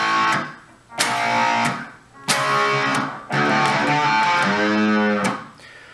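Verse riff on guitar, choppy strummed chords in short bursts separated by muted gaps, moderately loud, with no one speaking.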